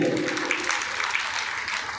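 An audience at a Bhagwat Katha, a Hindu scripture recitation, claps together for a donation announcement. The steady, moderately loud crowd applause lasts a couple of seconds with a faint voice underneath.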